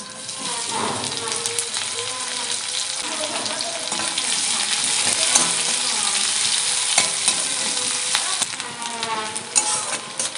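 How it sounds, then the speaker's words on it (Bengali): Chopped onions frying in mustard oil in a wok (kadai) for a spicy fish curry, a steady loud sizzle with stirring scrapes running throughout, close up. "পেঁয়াজ ভাজা হয়ে গেছে"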